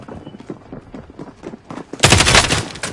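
Gunfire in a shooter video game: a run of scattered shots and thumps gives way to a loud, dense burst of rapid automatic fire in the final second, close and harsh, with no talking.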